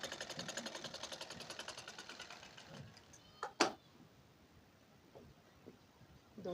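A sewing machine stitches a pleat on a border blouse with rapid, even mechanical clatter for about three seconds, then stops, followed by a couple of sharp clicks and quiet handling.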